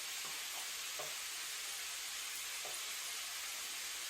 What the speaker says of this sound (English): You can hear that sizzling away nicely.